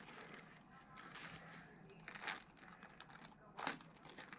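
A knife slices open plastic packaging holding JConcepts RC wheel parts, adapters and planetary covers, giving faint crinkling and a few sharp tearing bursts up close.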